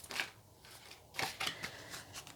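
A double-sided tarot deck is shuffled by hand, producing a few quick, crisp bursts of riffling cards close by, separated by brief pauses and with no talking.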